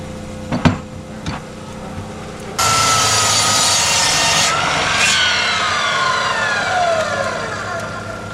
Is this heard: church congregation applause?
no